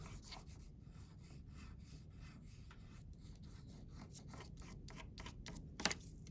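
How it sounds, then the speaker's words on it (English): A white crayon rubs across paper in a soft, continuous scratchy texture with faint repeated strokes, quiet and close, alone without talk. "we take that white crayon and draw a little bit on one side."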